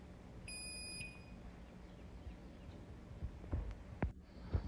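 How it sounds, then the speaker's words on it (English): A LiftMaster garage door opener with a dead backup battery gives a single short electronic beep near the start, fairly faint over a steady background hum, followed by a few scattered knocks and handling noises. "Does your garage door make a beep?"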